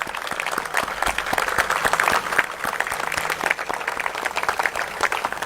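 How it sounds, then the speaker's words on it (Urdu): An audience at a Blue World City event in Islamabad gives a standing ovation, with dense continuous clapping from many hands that stays loud and even throughout. "آپ لوگ ایک دفعہ کھڑے ہو کے بھرپور تالیوں کے ساتھ جو ہے وہ"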